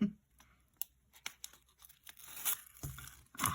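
Tape tearing in several short, crisp rips close by, for a shaker pocket craft project made with a fuse tool.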